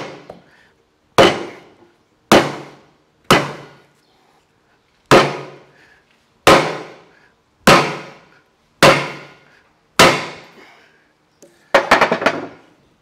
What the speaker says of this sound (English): I've got her strapped to the table again, and I've got my 8-pound sledge.